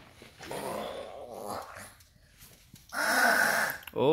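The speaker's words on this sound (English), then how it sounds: "Oh, you're snoring." A sleeping dog makes rough, growly snoring breaths close by, a few drawn-out snorts with a louder one near the end, heard alone.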